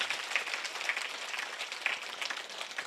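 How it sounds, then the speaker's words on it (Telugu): Audience applause at a meditation gathering, a dense, steady wash of many hands clapping throughout, fairly even in level with a few sharper claps standing out. "ఒకసారి గట్టిగా చప్పట్లు కొడదాం"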